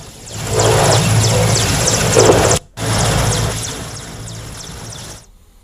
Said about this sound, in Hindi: MI-17 हेलीकॉप्टर से ये पोलिंग पार्टियां भेजी गई हैं।